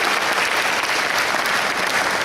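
Dense, steady applause from a school assembly audience, a continuous wash of many hands clapping at even loudness for the whole stretch, with no voices standing out.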